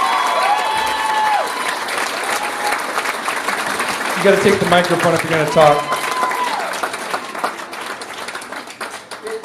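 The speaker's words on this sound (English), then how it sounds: "Come on, give her a round of applause." An audience at a charity benefit show applauds and cheers while someone speaks over the clapping and other voices call out, the applause swelling mid-way and then tapering off.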